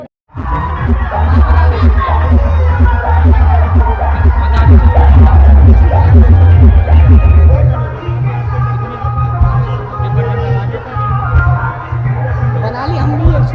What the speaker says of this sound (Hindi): तो देखें, इतना बहुत सारी भीड़ हो गई है